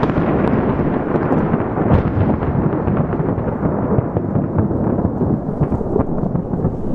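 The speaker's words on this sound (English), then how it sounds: "I don't know how good this is really picking up on camera as far as the thunder sound" Thunder rolls and echoes off the canyon walls at Ronda, Spain, in a steady, loud, rumbling wash that runs the full length without a break. Nobody speaks over it.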